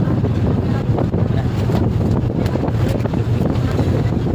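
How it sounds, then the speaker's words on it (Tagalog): Strong wind buffets the microphone in a constant loud roar aboard a ship at sea, with rushing choppy water and the vessel's fast motion underneath. "Malakas pa naman ang hangin."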